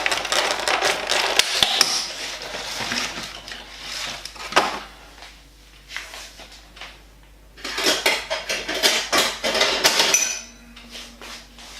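One large egg beaten briskly with a utensil against a bowl, quick clattering bursts of tapping and scraping in two main runs with a pause between, close and fairly loud, no talk.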